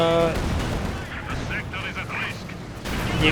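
Artillery and small-arms fire in a Company of Heroes 2 battle replay rumble continuously, with dense distant blasts and crackling shots layered into a thick, loud wash of combat noise.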